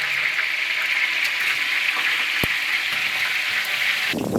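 Whole spices fry in coconut oil with a dense, even hiss that holds steady throughout, a single sharp knock midway and a brief louder rustle at the end, close and loud.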